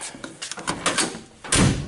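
Metallic clanks and rattles of a 1962 Ford pickup truck door being worked, ending in a solid slam up close.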